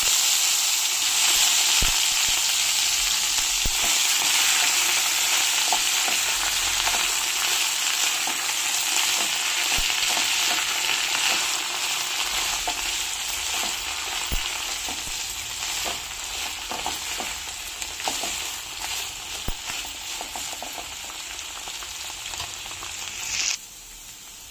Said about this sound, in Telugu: ఇప్పుడు బీర తొక్కులన్నీ వేసుకుంటున్నాను నేను